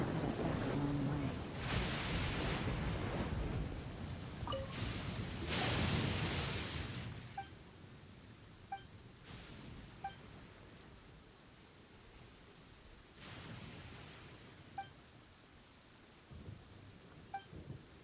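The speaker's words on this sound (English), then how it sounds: "It's raining again?" Rain falling in the Genshin Impact video game during a festive event, a steady broadband wash with gusty swells in the first seconds, then softer rainfall with faint small chimes and drips over it.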